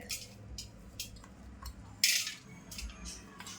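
Coarsely ground mung paste being scooped into a vessel, a run of light metallic clinks and scrapes of a spoon against a pot, with one sharper knock midway.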